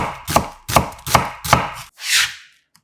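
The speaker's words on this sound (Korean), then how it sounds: "달큰한 양파 반 개를 살짝 굵게 채 썰어주고" A knife cuts half a sweet onion into thick strips on a cutting board, giving four crisp, evenly spaced chops and then one softer slicing stroke, close and clear with no voices.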